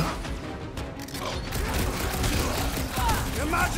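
Dense, continuous rumbling and crackling explosions, like fireworks or heavy gunfire, fill a scene in the Guardians of the Galaxy video game, loud and unbroken throughout with no clear speech.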